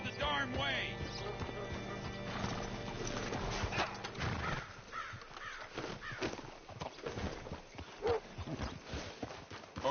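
Horse hooves clip-clop along in Red Dead Redemption 2 with a whinny near the start, crows cawing around it, and a voice speaking over the steady, moderately close footfalls.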